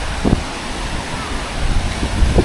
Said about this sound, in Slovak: vietor trošičku fúka, ale je teplý